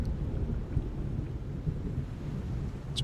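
A storm bolts spell in Pathfinder: Wrath lands as a steady, low rumble of thunder with a rain-like hiss, holding at an even loudness throughout and ending with a short bright crackle.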